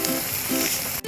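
An egg omelette fries in a pan with a steady close sizzle and crackle, loud throughout the short moment before cutting off abruptly at the end.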